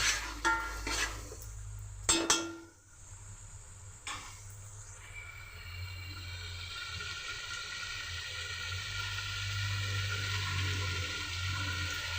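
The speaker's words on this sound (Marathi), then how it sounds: "आपण थोडं परतून घेऊया" A few sharp clanks of a spoon against a pan, followed by a long, steady sizzle of masala, garam masala, chutney and turmeric sautéing, with faint stirring scrapes.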